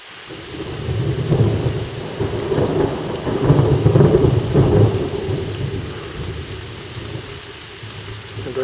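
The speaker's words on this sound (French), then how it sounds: "Il pleut, c'est super glissant. Ça n'a pas l'air de vouloir s'arrêter." A thunderstorm over a canyon gives a long, deep rolling rumble of thunder that swells and fades beneath a constant hiss of heavy rain, loud and close, with no talking.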